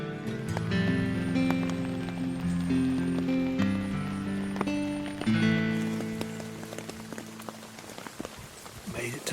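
Steady rain falls on a hunting stand beside a deer field, a continuous patter with scattered sharper drops, near and moderately loud throughout.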